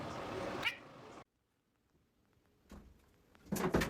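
Cat meowing nearby, a short meow at the start, then near silence, then louder meows and rustling toward the end.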